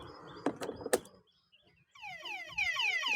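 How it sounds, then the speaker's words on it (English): A Quantum Electron electric scooter's anti-theft alarm goes off after a couple of sharp clicks, sounding a rapid series of rising electronic chirps that repeat and grow louder. "if some thief try to steal it with other key, it will produce an alarm sound."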